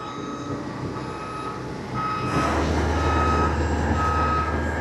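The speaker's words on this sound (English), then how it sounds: "Now the rear axles are retracting." A big boom lift retracting its rear axles gives a steady loud mechanical drone with tonal whine, then a deeper hydraulic hum joins partway through and holds; close, no voices.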